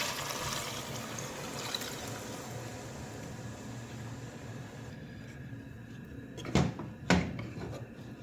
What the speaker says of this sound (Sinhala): මම දැන් මේ චිකන් ටික වැහෙන තරමටම වතුර දාගන්නවා